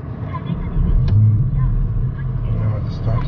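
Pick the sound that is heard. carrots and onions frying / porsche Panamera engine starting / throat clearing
porsche Panamera engine starting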